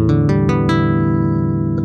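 A physics-based synthesized guitar plays a few basic strums, four quick bright attacks in succession that ring out into a sustained, loud chord with no voices.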